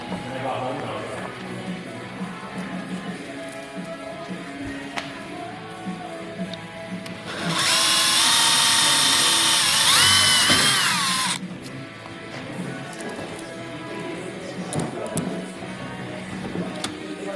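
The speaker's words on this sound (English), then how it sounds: "Alright, so we got all the holes drilled for the fender." A power drill boring holes for an over-fender on an Infiniti G35 whines steadily for about four seconds, loud and close, rising and falling slightly in pitch, with people talking before and after amid shop noise.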